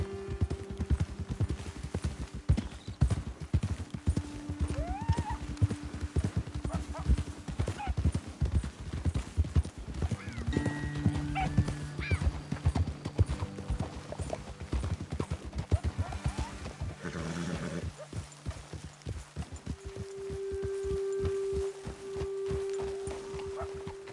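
Horse hooves clip-clop in a steady walking rhythm on a trail in Red Dead Redemption II, joined by a brief whinny and low game ambience, with voices talking over parts of it.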